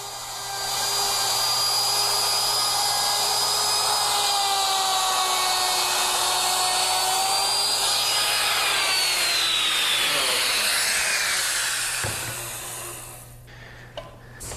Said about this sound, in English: always make sure that the router is held firmly to the fence